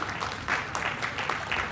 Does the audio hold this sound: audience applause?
yes